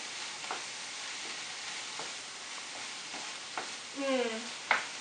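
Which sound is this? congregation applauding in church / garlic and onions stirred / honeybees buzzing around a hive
garlic and onions stirred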